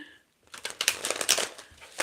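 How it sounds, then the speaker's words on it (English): Tarot cards being shuffled by hand in a steady run of crisp riffling and flicking bursts, close and fairly loud, with no talking over it. "Y'all see me shuffling now."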